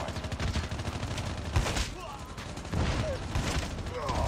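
A shotgun firing in the video game COD Mobile, several sharp blasts in quick bursts amid game noise, with a voice talking over the action.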